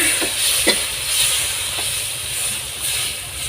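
Tomatoes blended to a puree being stirred in a cooking pan, giving a steady hiss and sizzle with a few soft scraping strokes of the spoon, close and continuous.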